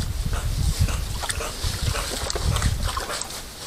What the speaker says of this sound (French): On entend l'eau, on entend les sangliers, on les entend même qui se frottent.